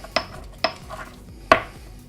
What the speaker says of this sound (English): So you just crush the garlic and the beans.